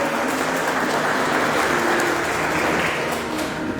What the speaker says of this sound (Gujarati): આપણે સૌ તાળીઓના ગડગડાટથી વધાવી દઈએ.